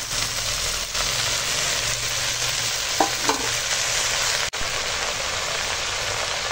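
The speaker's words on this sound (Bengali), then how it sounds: "এখন এই কলমি শাকটাকে এখন নেড়ে নেড়ে রান্না করে নেব।" Water spinach (kalmi greens) stir-frying in a pan with fried onion, green chilli and garlic, a steady close hiss of sizzling throughout with a couple of brief utensil scrapes near the middle and no talking.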